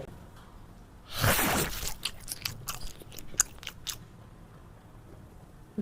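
Someone bites into chicken donne biryani with one loud crunching bite, then a few softer chewing and tearing sounds close to the mic, with no talking.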